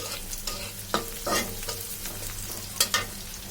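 Garlic and onion softening in hot oil in a pan for a pat shak dish, a soft continuous sizzle with a few brief louder bursts of stirring, close and fairly quiet.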